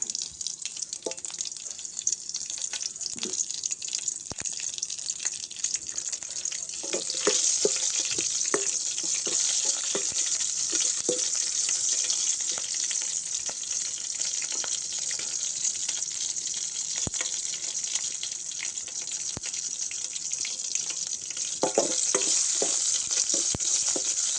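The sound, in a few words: green chillies frying in oil with mustard seeds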